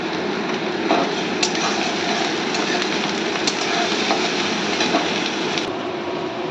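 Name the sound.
frying black cumin, garlic and onion in mustard oil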